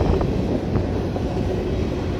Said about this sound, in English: How long is this dang train?